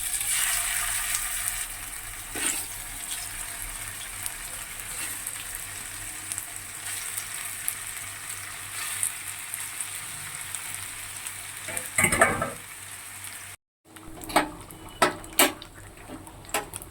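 Chicken balls sizzle in a small amount of oil in a wok, a steady close frying hiss with a few scrapes and clatters of the pan near the end.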